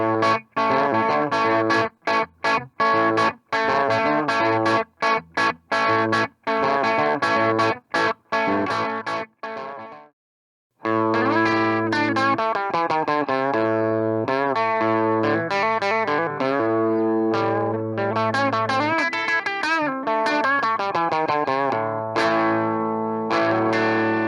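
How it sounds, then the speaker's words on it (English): An electric guitar runs through a 5F1 tube amp kit turned up about halfway, so the tubes saturate into mild breakup. It plays strummed chords and ringing note runs for most of the clip, broken by one brief gap, with no talking. "Turning the amp up to about halfway, we can start to feel the saturation of the tubes and we get a little bit of breakup."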